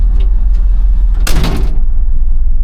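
A single solid thud of a 1982 Ford F-150 pickup truck door shutting nearby, a brief broadband burst over a steady low engine rumble.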